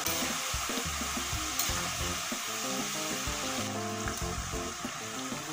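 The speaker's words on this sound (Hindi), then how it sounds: "इस तरह से चलाते हुए हमने इसको तलना है।" Papad frying in hot oil as it is stirred, with steady broadband sizzling mixed with irregular scraping and clattering from the stirring throughout, close and fairly loud, with no talking.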